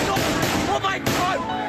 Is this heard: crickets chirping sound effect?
no